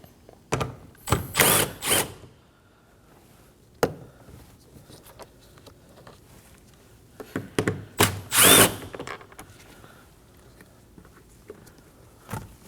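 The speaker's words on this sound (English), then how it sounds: "Now we can go ahead and remove these two 10mm bolts that are on the handle." A power driver with a socket removing two 10mm bolts from the door handle of a Nissan Armada during a front window regulator job: short, close whirring bursts separated by quiet gaps and light tool clatter, with no talking.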